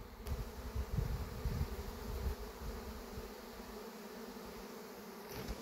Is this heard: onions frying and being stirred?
no